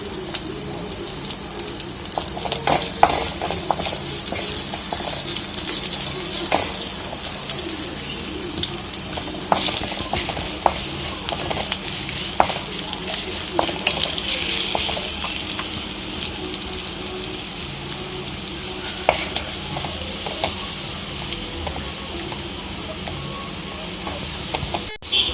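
Tempering spices with a pinch of asafoetida sizzle in hot oil for mor kulambu, a steady dense hiss lasting throughout with scattered sharp crackles and pops, close up and with no talking.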